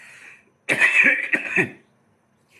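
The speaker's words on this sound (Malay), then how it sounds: "batuk tak boleh ni" A person clears their throat and coughs in a short, harsh burst lasting about a second, close and fairly loud, with quiet before and after.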